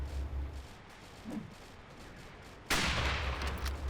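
Gunfire in the WW2 Online battlefield game: a loud, abrupt shot near the end that stays as a sustained burst of noise, after a quieter stretch with low rumble and distant activity.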